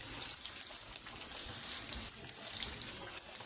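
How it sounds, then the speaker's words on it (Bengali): Oil frying in a wok, a steady hissing sizzle with faint crackles, close and continuous throughout with no talking. "কড়াইতে তেল দিয়েছি,"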